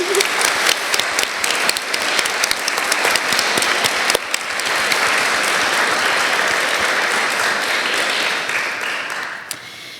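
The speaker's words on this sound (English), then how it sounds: "And we'll just give them a round of applause now." A dense round of audience applause at a public event, many hands clapping steadily and loudly for about nine seconds before tapering off, with no speech over it.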